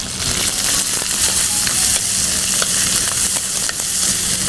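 Green chilies and onion frying in oil in a pan, giving a loud, steady, dense sizzle and crackle throughout with a few faint stirring knocks.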